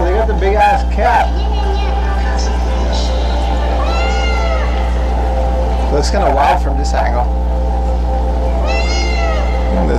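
A big cat meows several times in drawn-out, wavering calls over a steady low hum, while a person talks over it.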